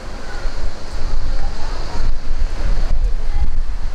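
Sea waves washing onto the beach shore beside a Turkish holiday resort, rolling surf with periodic swells under heavy wind buffeting the microphone.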